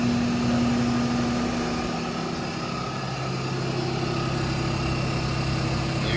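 An engine of a GM van with an aluminum drive shaft vibration issue holds at raised throttle, a steady droning hum with a constant tone, close and even throughout, no speech.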